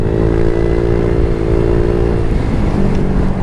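A motorcycle engine with an aftermarket exhaust runs loud and close, a steady throaty rumble with slight flutter throughout, no voices.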